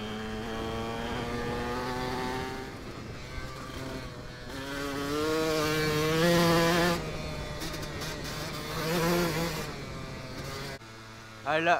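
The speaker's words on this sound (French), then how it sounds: "Elle craque hein, quand même le 125, c'est incroyable. Comment il craque." KTM 125 EXC two-stroke enduro motorcycle engine revving and crackling on a ride, its buzzing tone rising and falling through gear changes, moderately close, with a rider's voice speaking over it at times.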